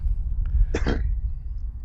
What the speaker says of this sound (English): Did you clear your throat there properly?